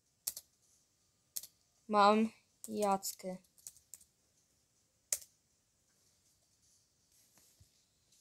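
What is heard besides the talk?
typing on a computer keyboard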